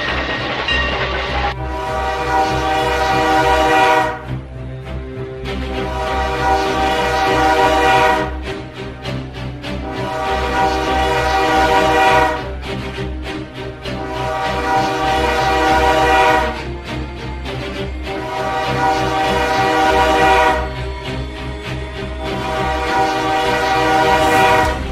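A CN train rolls past loudly at night, its horn sounding in repeated long blasts over a steady rail rumble and clatter.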